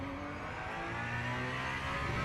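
The race car engine in Le Mans Ultimate, an Alpine, drones and revs with a steady tonal whine at low volume, with no voices over it.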